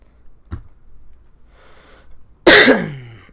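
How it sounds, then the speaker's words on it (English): Two coughs stand out against a quiet room: a short soft one early, then a much louder, harsher cough near the end that trails off. "I hope those coughs aren't too loud"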